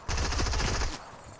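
Fortnite gunfire, a rapid burst of automatic shots lasting about a second, loud and close, with no talking over it.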